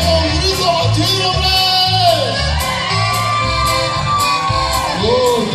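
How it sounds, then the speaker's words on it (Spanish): A crowd at a live performance lets out Mexican grito shouts, wavering whoops and yells rising loudly over music with a band playing. "Y que se haga un grito bachino"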